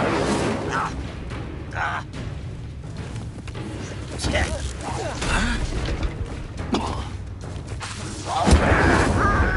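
A fire spell cast during spell combat in the Hogwarts Legacy video game bursts out as a whooshing, booming blast amid dense layered effects and rumbling impacts, with several bursts across the passage and a voice speaking over the action.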